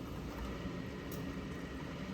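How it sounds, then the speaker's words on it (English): Steady rushing water spray from the spray arms inside a Miele dishwasher, a continuous low churning wash with no breaks. "So those are the arms now spraying water"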